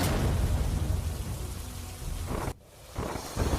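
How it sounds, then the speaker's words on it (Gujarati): Heavy downpour in Chotila, Surendranagar, Gujarat, a steady broadband roar of rain that dips abruptly for a moment near the end before resuming, with low rumbling beneath and no voices. "સુરેન્દ્રનગરના ચોટીલામાં ધોધમાર વરસાદ"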